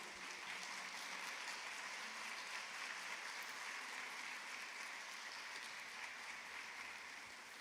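A church congregation offers a round of clapping during a sermon, a dense, even wash of applause that sounds distant and quiet and holds steady throughout.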